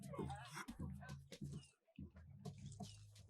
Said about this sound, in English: That's a guard dog.